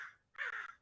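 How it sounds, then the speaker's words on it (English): Crows caw outdoors, a brief call followed by a louder double caw, distant and faint, with no talk over them. "Sounds like the crows are applauding for this one."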